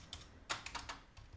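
Soft typing on a Dell KM3322W membrane keyboard: a handful of scattered keystrokes with one sharper, louder clack, heard close and faint with no talking.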